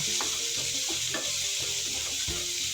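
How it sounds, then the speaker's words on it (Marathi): Chopped onion frying in a pan of hot oil, a steady loud sizzle with scattered clinks of a spoon stirring, no voices over it. "बघा किती तेल तापलेलं आहे चरचर करत आहे"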